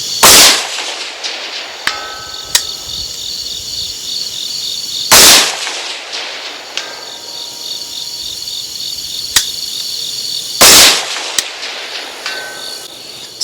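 Three sharp, loud pistol shots ring out at a long-range 400-yard setting, evenly spaced several seconds apart, each with a brief echoing tail over a steady outdoor background hum and a few faint distant clicks.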